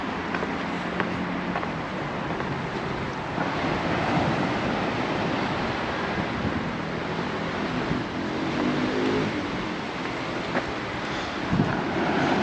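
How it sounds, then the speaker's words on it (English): Sea waves washing onto a beach at Palmanova, Mallorca, in late November, a steady broad roar of surf with gentle swells and some wind, no voices. "Now the waves here do look a bit bigger."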